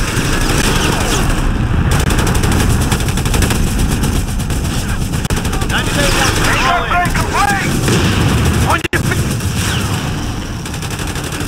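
Battle sounds from the video game Company of Heroes 3 play loud and dense, with continuous rattling machine-gun fire and heavy artillery thuds, and shouting soldiers heard faintly through the din.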